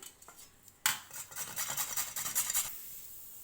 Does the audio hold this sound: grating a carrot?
yes